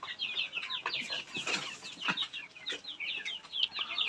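Domestic free-range chickens on a small farm in winter, about a month old, cluck and chirp continuously in a busy overlapping flock, close and fairly loud with no talk.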